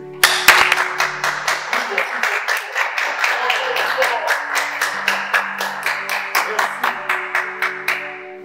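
Guests at a nuptial ceremony clap in a steady rhythmic beat, repeated sharp claps going on for several seconds over a sustained organ-like musical tone.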